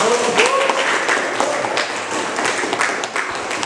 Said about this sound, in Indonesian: Sekali lagi berikan tepuk tangan untuk kelompok 1